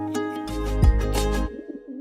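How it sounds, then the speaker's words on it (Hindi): A pigeon coos nearby in a short, loud, throaty phrase of a few rolling notes, heard clearly with no talk over it. "ये वही कबूतर है जिसको गोली लगी थी।"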